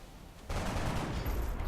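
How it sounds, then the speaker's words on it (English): Assault rifle fire in the XCOM game bursts in at about half a second and rattles on as a dense, loud volley of rapid shots with no talking. "We can shoot it with an assault rifle and hope that it dies."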